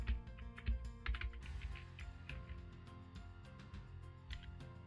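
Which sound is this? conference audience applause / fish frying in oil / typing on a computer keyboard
typing on a computer keyboard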